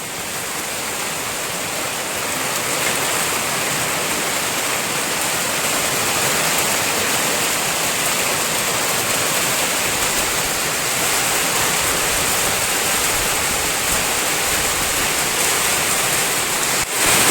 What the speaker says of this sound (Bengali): দেখো কেমন আওয়াজ হচ্ছে, বড় বড় ফোঁটা পড়ছে বৃষ্টির।